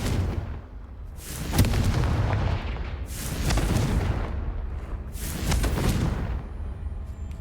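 Repeated Confringo blasting curse explosions in Hogwarts Legacy, three booming bursts a couple of seconds apart, each with a rumbling tail, over steady background noise.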